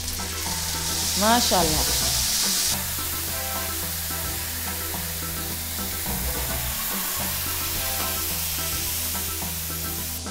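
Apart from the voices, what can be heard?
frying in olive oil in a frying pan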